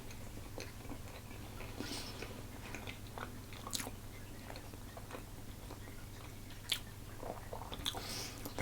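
Someone bites into and chews a moist apple butter and sultana muffin, giving soft, quiet, intermittent chewing and biting sounds close to the microphone over a low steady background hum, with no talk.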